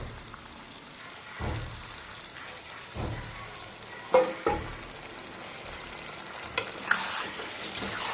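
Water poured into a hot frying pan of pointed gourd and prawns sets off a steady sizzle and bubbling hiss, broken by a few soft scraping stirs and clinks, with no talking.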